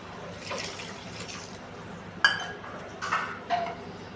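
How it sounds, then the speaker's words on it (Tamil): Water added to an egg curry simmering in a pan on low flame, a soft pour followed by a few sharp clinks and taps of a utensil against the pan. "லைட்டாக தண்ணி சேர்த்துக்கலாம்"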